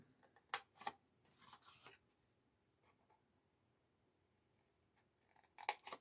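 Scissors cutting paper card for a handmade explosion box craft, a few quick crisp snips in short bursts with quiet pauses between, close and faint, no talking.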